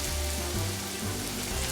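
Ground beef browning for sloppy joes sizzles in a pan: a steady, dense crackling hiss, close and fairly loud, with no voices.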